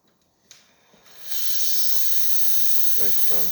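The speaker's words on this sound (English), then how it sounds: "Nice strong steam." A loud, steady hiss from a La Pavoni espresso machine's steam wand bursts in after a faint click and holds strong, with a brief low rumble of the machine near the end.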